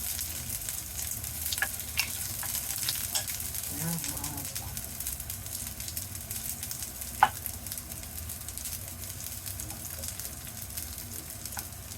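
Onions sauté in a pan, giving a soft, steady sizzle with occasional scrapes and taps of a favourite ladle being stirred through, and a brief voice partway through.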